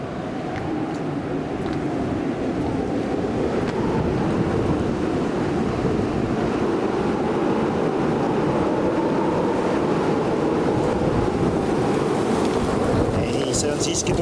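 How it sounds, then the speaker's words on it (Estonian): Strong wind roars steadily outdoors in the Azores, a loud broadband rush with gusty swells that fills the whole stretch without a break, as a storm approaches. "See on siiski tugev tuul, mis lähenes."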